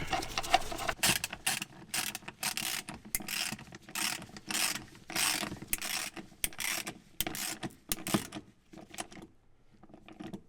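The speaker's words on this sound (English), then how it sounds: "So now we go ahead and refit these bolts." Ratchet tightening the third-row seat bolts in a Dodge Grand Caravan, close and moderately loud, with repeated bursts of rapid clicking separated by short pauses and occasional handling rubs.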